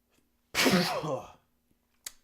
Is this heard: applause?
no